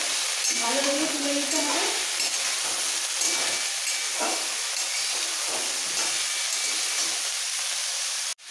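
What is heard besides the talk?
drumstick stalks and potatoes frying and being stirred in a pan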